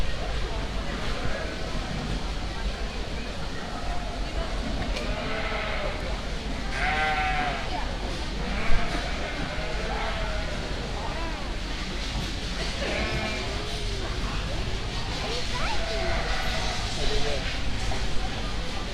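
Sheep bleat again and again at a market lamb show in a busy arena, some calls close and some farther off, over a steady crowd murmur with people talking.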